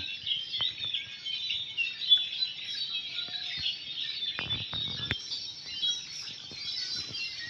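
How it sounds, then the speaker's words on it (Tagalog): Thousands of massed birds calling together in a constant high chatter, with occasional low thumps and rustling beneath the chorus. "Talagang libo-libong mga ibon yung andito."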